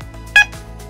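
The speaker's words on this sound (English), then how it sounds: "once the ready light is beeping, it's now going to go and actively search for a refrigerant leak" A Mastercool Intellasense II refrigerant leak detector gives a single short electronic beep, clear and close, over a quiet low hum.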